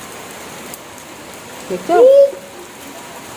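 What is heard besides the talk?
rain falling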